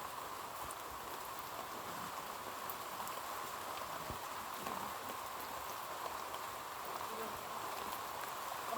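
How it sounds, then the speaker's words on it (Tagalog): Steady rain patters down continuously, a soft, even hiss with scattered drops, fairly faint and without any voices. "basang-basa na kami sa ulan"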